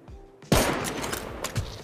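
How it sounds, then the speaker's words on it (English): Gunfire in the survival video game Rust, a sudden loud shot opening a sustained rattling volley with a few more distinct bangs toward the end. "Shoot the heads off."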